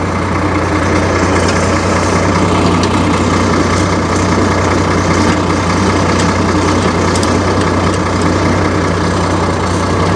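A Farmall 806 tractor engine idles after a cold start, a loud, steady diesel rumble with a low throbbing pulse and faint knocking that holds even and close throughout, with no talking.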